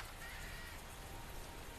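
Steady rain pours through a Borderlands 2 game scene, a dense even hiss holding throughout with no pauses, joined near the start by a faint high whistling tone.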